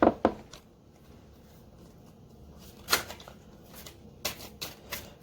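Tarot cards shuffled in a few quick crisp riffling bursts, near and moderately loud, with quiet gaps between the flurries and no talking.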